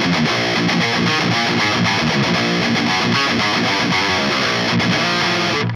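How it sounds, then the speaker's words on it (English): Heavily distorted electric guitar through a 6505 mini tube amp chugs through a rhythmic riff, gritty and saturated, playing loudly and continuously with sharp, choppy palm-muted bursts. "that 6505 mini amp is kind of cool. It has that distortion"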